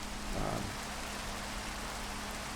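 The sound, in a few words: rain in the video game Minecraft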